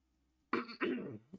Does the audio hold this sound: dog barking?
no